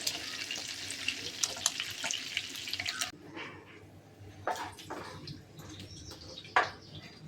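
Prawns deep-fry in hot oil for chemeen biriyani, a steady bright sizzle that fills the first few seconds and then drops to softer crackling with occasional stirring clatter.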